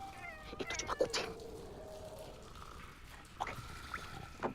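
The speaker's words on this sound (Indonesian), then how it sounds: "Itu cuma kucing." A cat meows several times at moderate distance, short tonal cries spaced irregularly, with faint dripping and trickling sounds in a quiet background and no talk.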